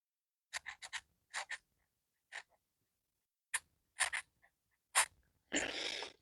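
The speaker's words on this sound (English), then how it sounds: "let me write your name on a piece of paper" A pen writes a name on a piece of paper in short, quick scratchy bursts with pauses between strokes, ending in a longer rasping stroke; close and fairly quiet, with no voices.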